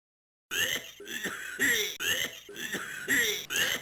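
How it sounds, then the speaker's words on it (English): A short, harsh digitized cough from the Apple IIGS version of Space Quest II repeats about six times in quick succession, each burst lo-fi and synthetic. "we have this lovely, charming, digitized cough sample and a sweet little lullaby plays"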